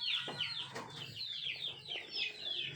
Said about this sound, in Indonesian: sekarang saya kasih makan ayam Bangkok teman-teman, biar semakin sehat dan gemuk